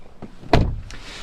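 Someone climbs into a car: a soft thump, then a solid car door slam near the middle, followed by faint rustling inside the cabin.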